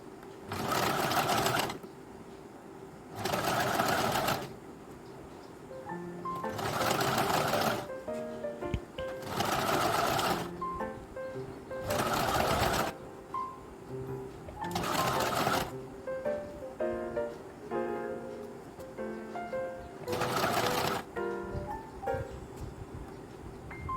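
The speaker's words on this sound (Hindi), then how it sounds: "बाकी पट्टी को पीछे की तरफ करके इसे सिलाई लगा रही हूँ" A sewing machine stitches a strip of fabric for a princess-cut deep-neck blouse, running in repeated bursts of rapid, close mechanical whirring separated by short quiet pauses, about seven runs in total.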